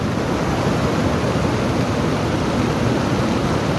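Loud, continuous churning roar of a swollen river in mountain country, dense and unvarying from start to finish until it cuts off abruptly, heard close with no talking.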